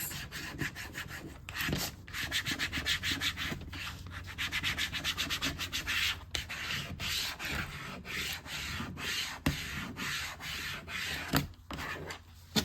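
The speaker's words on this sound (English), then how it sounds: "Now we're going to take our plastic squeegee and we're just going to run it all over those blue checkers." A plastic squeegee is rubbed firmly over blue tape on a board, giving a continuous scratchy scraping with repeated strokes and brief pauses, fairly quiet and with no talking.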